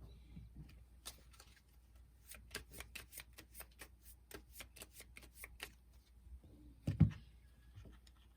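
Cards from the Onirim card game are shuffled by hand, a rapid run of soft riffling snaps close to the mic in a quiet room, followed by a brief knock as the deck settles.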